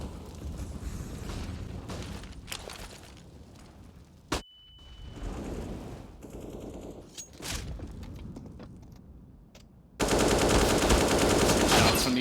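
Automatic and single gunshots in a Counter-Strike esports match between MOUZ and fnatic at the IEM Rio Major, including an MP9 submachine gun, crackling in loud bursts with a sharp crack near the middle and a dense final volley.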